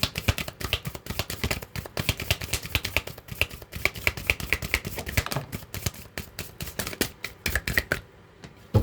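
A deck of oracle cards is shuffled by hand at close range, a rapid run of crisp riffling snaps and taps that continues for several seconds before stopping briefly near the end.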